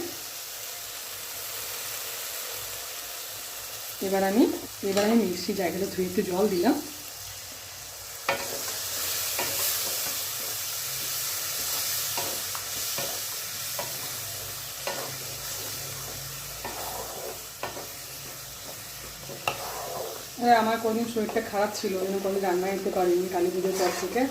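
Spices with ginger and tomato fry in oil, stirred with a spoon: a steady sizzle with repeated scraping strokes, and a person talks in bursts over it.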